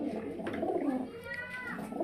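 Small white-eyed pigeons cooing close by, soft throaty coos repeating over a steady low murmur.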